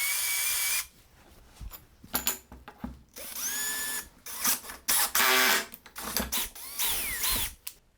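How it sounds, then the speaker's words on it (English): A simple hand tool sets threaded rivet nuts into holes in stainless steel for a Christmas tree stand, giving a series of sharp, close mechanical clicks and ratcheting bursts with brief pauses between strokes. "To install those rivet nuts, I have this simple"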